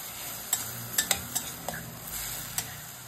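Chili powder and turmeric being stirred in a frying pan: a run of sharp utensil scrapes and taps spaced irregularly over a low sizzle, close and fairly quiet, with no voices.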